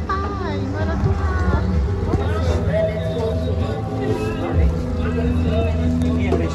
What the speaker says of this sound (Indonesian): Perjalanan ke pulau ini memerlukan waktu sekitar 1 jam menggunakan speedboat.